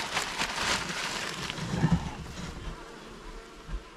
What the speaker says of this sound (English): there's one or two bees flying around that I haven't been able to capture